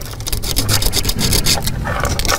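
Steady rubbing and rasping scrape from cleaning the ends of a part on a 2010 Jeep Patriot, continuous and close, with no talk.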